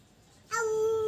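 Following a quiet moment, a small child launches into a steady, sustained howl imitating a wolf, held loud and close to the end.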